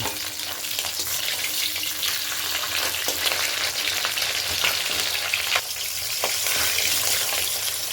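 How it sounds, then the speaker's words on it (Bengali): Catla fish head frying in oil for a Bengali mixed-vegetable dish, a dense, continuous crackling sizzle that stays loud and close throughout with a few sharper pops. "কালদে মাছের মাথাটাকে ভালো করে ধুয়ে নিয়ে ভালো করে লাল করে ভেজে নেব।"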